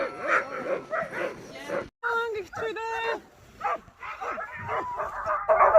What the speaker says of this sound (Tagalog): Excited na mga aso na lumabas ng kulungan.